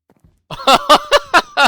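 Six short, voiced clucks in a regular rhythm, close and fairly loud, from chickens in Minecraft 1.15, preceded by a couple of faint ticks.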